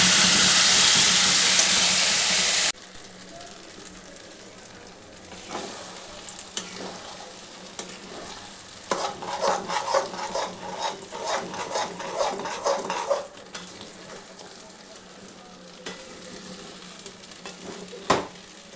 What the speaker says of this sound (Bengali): দেখতে পাচ্ছেন বন্ধুরা, এরমভাবে এটাকে নেড়ে যেতে হবে